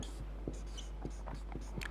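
A pen scratches across paper in short strokes as math equations are written out during a lecture, soft and close with quick rhythmic marks and no talking.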